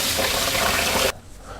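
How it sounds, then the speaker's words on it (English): Hot tap water running over a knife at a sink while making a New York style cheesecake, a loud close gushing stream that cuts off abruptly near the end, leaving quiet room tone. "I'm going to run it under hot water just to heat it up."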